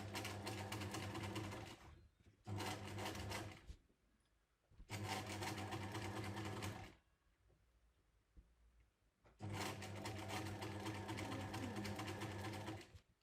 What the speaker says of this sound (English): I've just increased my stitch length slightly, so it moves around a little bit quicker